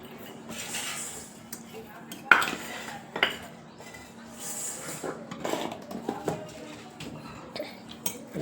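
A spoon stirs and scrapes through raw mango pickle in a steel bowl, with clinks and sharp knocks under a soft, steady background hum, and a voice talking quietly through it.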